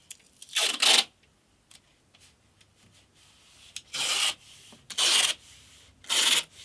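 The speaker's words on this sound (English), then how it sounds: "put sandpaper on here and use this to sand the radius block" Sandpaper rubbed over a wooden radius block in a workshop, four separate rasping strokes, two quick ones early and two more after a pause, close and crisp with quiet gaps between.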